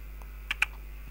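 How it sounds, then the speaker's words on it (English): A single key press on a computer keyboard, two quick light clicks close together over a steady low hum, brief and quiet. "bring down the opacity options by hitting T on our keyboard"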